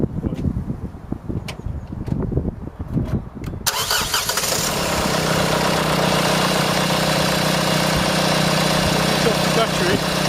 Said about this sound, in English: That's how an engine should sound.